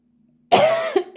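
A harsh, close cough bursts out after a brief quiet hum, followed by a shorter second cough.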